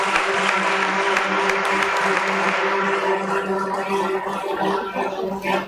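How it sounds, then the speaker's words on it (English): Audience applause at a stock exchange listing ceremony for Landmark Cars Limited at BSE: loud, dense clapping from a crowd that thins slightly toward the end, with a steady hum underneath and some voices mixed in. "Big round of applause, everyone."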